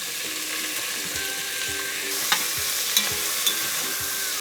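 Two sausages frying in a pan for pizza, a steady sizzle and crackle with a few sharp pops, close and alone without talk.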